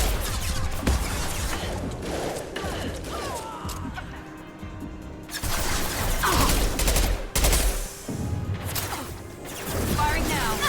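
Rapid bursts of gunfire and crashing impacts from combat in the video game Mass Effect 2, loud and dense, with short quieter gaps and a voice speaking over the fighting.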